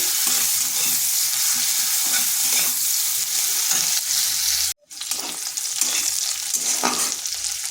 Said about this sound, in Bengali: পেঁয়াজটাকে হালকা একটু ভেজে নিচ্ছি